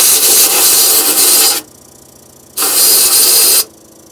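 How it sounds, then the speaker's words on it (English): Two loud bursts of blown air hiss and rush through the exhaust valve of an old cable shovel, each lasting over a second with a pause between, close up. "I'm gonna try to blow some of this stuff out."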